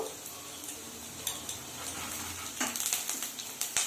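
Potato pieces fry in hot oil in a kadai with a soft, continuous sizzle broken by light clinks and scrapes of stirring.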